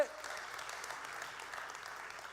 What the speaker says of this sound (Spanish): Eso, un aplauso ahí.